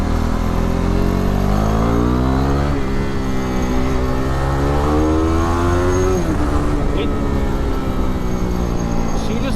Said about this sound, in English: This exhaust gives off such a good bass.